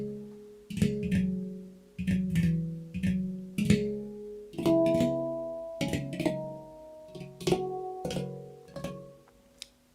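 Handpan notes played with a tremolo technique, sampled for an MPC expansion: clusters of rapidly repeated metallic, ringing tones that bloom and decay, moving across a few pitches, close and clean with no talking.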